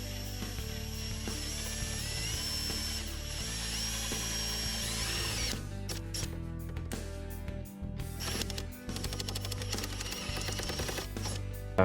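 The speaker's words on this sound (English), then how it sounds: "After starting to drill," A power drill bores into a plastic panel on a Jeep, a steady high whine running without pause, then broken by stuttering bursts as the bit catches and bites.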